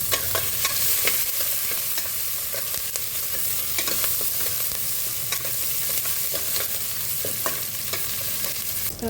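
Food roasts in a hot pan with chilli added, giving a steady loud sizzle with frequent scraping clicks from stirring throughout, close up and without talk.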